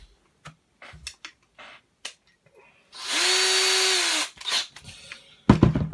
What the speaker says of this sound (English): So I got my drill, I'm ready to drill this.